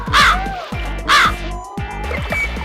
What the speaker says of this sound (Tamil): ஒரு நாள் அதே சமயத்துல ஒரு காக்கா கூட்டம் வந்தது